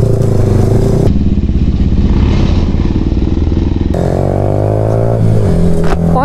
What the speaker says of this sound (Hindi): और वेनम राइडर अपना ट्रेडमार्क मतलब व्हीली करते हुए